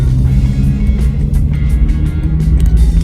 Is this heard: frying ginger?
no